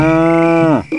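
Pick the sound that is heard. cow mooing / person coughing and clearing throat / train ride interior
cow mooing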